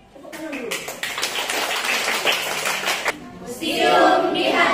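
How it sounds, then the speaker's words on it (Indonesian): A burst of clapping from a group in a museum, brisk and close, lasting a few seconds before fading into a brighter rushing noise. "Tepuk tangan dulu."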